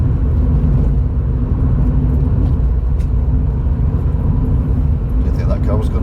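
A car passing on a UK road, heard from inside another vehicle as a steady, loud low rumble and whir of engine and tyre noise that continues throughout.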